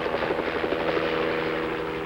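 Sioux Scout experimental tandem-seat helicopter in flight, a steady, droning rotor and engine hum with a rhythmic beating pulse, moderately loud and unbroken throughout.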